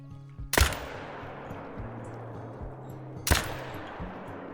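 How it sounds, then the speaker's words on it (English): Two loud, sharp rifle shots from a .308 AR in the hunting game Call of the Wild, about three seconds apart, each followed by a long rolling echo across open terrain, with a low droning hum underneath. "we're going to go for a shot with the 308 AR"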